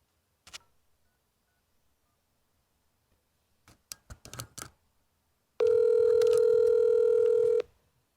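A phone call being placed: a few soft clicks and taps, then a steady, fairly loud electronic tone holding for about two seconds before cutting off, with no voices.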